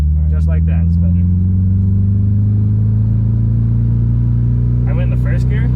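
The engine of a Subaru WRX hums steadily and loudly from inside the cabin as the clutch is let out and gas is applied, its pitch rising gradually, with brief voices talking at the start and end.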